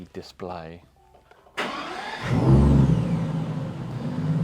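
A car engine cranks and catches at close range just after a brief spoken word, then settles into a steady, fairly loud running drone.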